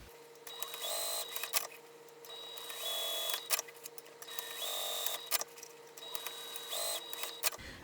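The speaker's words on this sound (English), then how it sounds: "I'm just going to sew down each of those lines" A sewing machine stitches down lines across fabric card slots, running in several separate bursts with short pauses between, a steady close mechanical whir with faint tonal whines.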